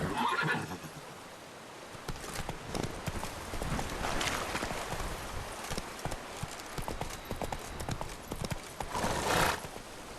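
Horse hooves clip-clopping at a fast gallop in The Witcher 3 video game, a steady drumming rhythm with whinnies and game ambience throughout, loud and close.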